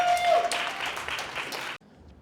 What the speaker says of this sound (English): Give them a round of applause for making it this far in the competition.